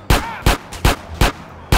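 Gunfire in GTA San Andreas remastered: five loud, sharp shots in a steady rhythm about a third of a second apart, close and dominant with little else underneath.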